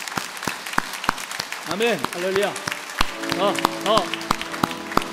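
Church congregation clapping during a Sunday service anniversary celebration, sharp rhythmic claps beating in time while voices call out over them, near and fairly loud.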